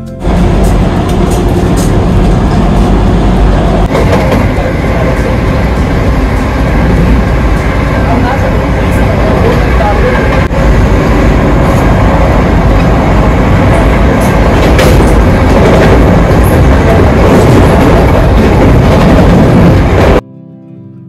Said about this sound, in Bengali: আমাদের বন্দে ভারত তার ম্যাক্সিমাম পারমিসিবল স্পিড মানে 130 কিলোমিটার প্রতি ঘন্টা ছুঁয়ে ফেলল